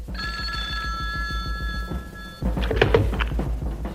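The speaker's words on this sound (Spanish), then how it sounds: "En la sala del alcaide sonaba el teléfono." A telephone bell rings in a warden's office as a podcast sound effect, with a steady repeating trill over a rhythmic thumping for about two seconds, then stopping abruptly and giving way to busier clattering noise.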